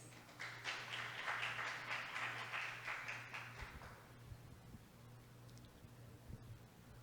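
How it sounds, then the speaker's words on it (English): Audience applause at a university building event, a room full of clapping hands that swells and then thins out over several seconds, with a steady low hum underneath. "A round of applause, please."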